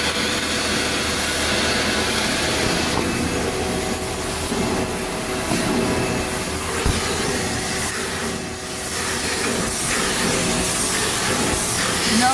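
A vacuum sucks up particles while a car is being cleaned, a loud continuous roaring hiss with slight shifts in tone as the nozzle moves, close by.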